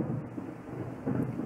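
Distant thunder rumbling in a rainy video game scene, a faint low roll that swells briefly twice over steady rain-like hiss.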